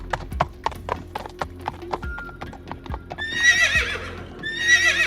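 A horse's hooves clip-clop in a quick, steady rhythm, then the horse gives two loud, close whinnies near the end.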